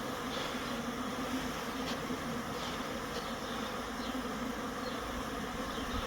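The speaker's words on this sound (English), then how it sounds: "the bees are actually all the way across to both doors now" Honey bees swarm around a horizontal Layens hive, making a dense, steady buzzing that holds at an even loudness throughout, with a few louder individual bees passing close by.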